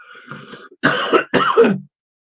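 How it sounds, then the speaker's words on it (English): A single person coughs and clears their throat: a rough raspy sound followed by two harsh bursts close to the microphone, then silence. "That's just a cough."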